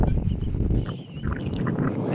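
Gusty wind buffeting the microphone beside an outdoor wall on a moderately windy day, a steady loud rumble that swells and dips throughout.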